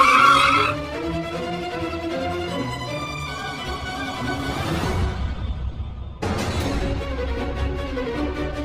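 Cartoon car speeding off toward a farmhouse, engine revving and whining upward in pitch with tire noise, cut abruptly partway through before the roaring acceleration resumes, loud and close.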